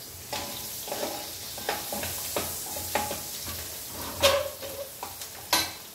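One onion and a quarter teaspoon of turmeric frying in a pan for a cucumber curry. A steady sizzle runs underneath, broken by repeated scraping stirs and a few sharper utensil knocks.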